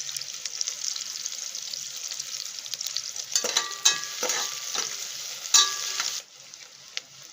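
Onion and curry leaves sizzle softly in hot oil in a home kitchen, a steady low frying hiss broken by a few sharp crackles and stirring scrapes before it quiets near the end.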